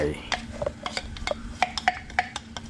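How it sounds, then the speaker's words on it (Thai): A spoon stirs Thai kaeng liang soup in a pot. The soup has shrimp paste, pumpkin and ground pepper with shallots. Quick, close clinks and scrapes of metal on the pot repeat unevenly over a soft simmer. "คนให้เข้ากัน"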